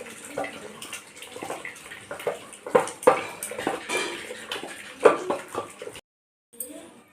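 Cooked mukkirattai greens and whole onions being mashed in a pot, giving irregular wet squelches and sharp knocks of the utensil against the metal rim, close and moderately loud, briefly stopping near the end.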